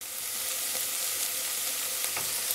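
Celery and onion, with garlic, sizzle and fry steadily in a hot pot, a continuous close crackling hiss with faint stirring clinks and no voices.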